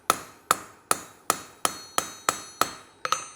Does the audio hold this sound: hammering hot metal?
yes